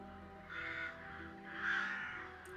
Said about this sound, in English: you do hear the occasional cawing at crows